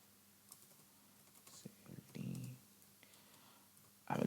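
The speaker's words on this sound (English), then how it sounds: "I will be typing some password, random password" A password is typed on a computer keyboard: sparse, faint key clicks scattered over a quiet room, with a voice murmuring at times and a louder clatter of keys right at the end.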